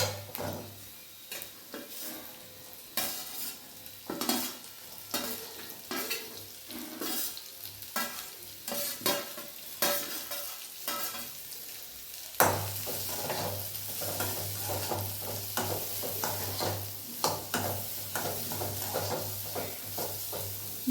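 Okra and onion stir-frying in a pan for a rice dish, with steady sizzling and repeated scraping stirs close up, the frying growing louder and denser partway through; no talking.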